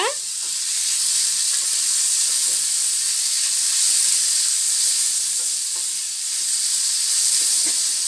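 Tomato sizzles in a hot pan with oil, a loud, steady hiss from the moment it hits, with faint stirring clicks scattered through.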